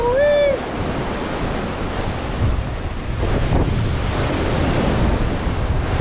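Surf washes onto the beach at Martha's Vineyard, a steady roaring wash with heavy wind buffeting the microphone, plus a brief high whistle-like tone at the very start.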